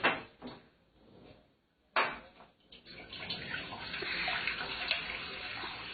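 Tap water runs into a bowl for several seconds in a home kitchen during cooking prep, with a splashy start, a brief pause, then a steadier, rising flow.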